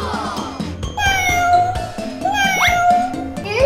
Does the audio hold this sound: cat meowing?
yes